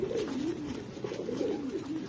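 Racing pigeons in a loft keep up a steady, rolling low coo that wavers in pitch, close and continuous over faint background noise.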